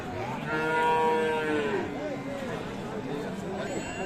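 Friesian cows with their calves lowing at a busy cattle market in Aftabganj, Dinajpur; one long, loud moo rises and falls up close, with crowd noise and market bustle continuing after it.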